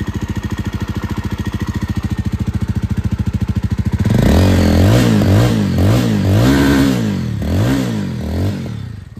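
A nearby 2024 Jawa 350 motorcycle with a dB killer fitted idles with a steady thump, then revs repeatedly, the engine rising and falling in loud surges before easing back.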